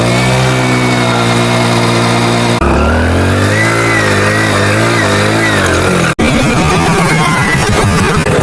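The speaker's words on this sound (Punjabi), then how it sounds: "ਤਾਂ ਹੁਣ ਆਪਾਂ ਤੁਹਾਨੂੰ ਦਿਖਾਣੇ ਮੋਟਰਸਾਈਕਲ ਦਾ ਸਟੰਟ" A motorcycle engine revs hard during a stunt on a foggy, cold day in Hoshiarpur, Punjab: a loud, close, continuous roar whose pitch rises and falls with throttle changes, broken by a brief cut.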